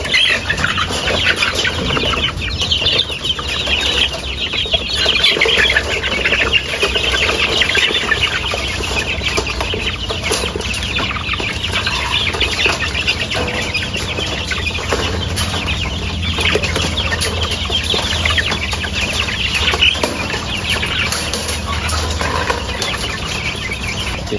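A crowd of village chickens being fed clucks and squawks continuously up close, with wings flapping and scattered pecking and scuffling throughout.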